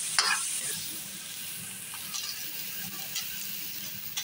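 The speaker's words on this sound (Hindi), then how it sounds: "यहाँ पे हमारी प्याज फ्राई हो रही है।" Onions fry in a pan with whole garam masala spices, giving a steady close sizzle with a few brief utensil scrapes and no talking.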